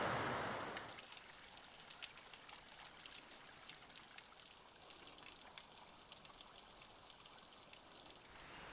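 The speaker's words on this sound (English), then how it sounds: "There's a creek you can probably hear in the background." A creek flowing near a lakeside campsite by Baker Lake, a faint, steady trickle and wash of water in the background with no talking.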